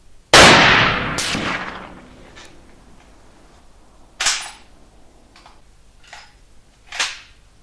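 A rifle fires a series of sharp, loud gunshots outdoors, the first and strongest ringing out with a long decay, followed by a few more spaced reports.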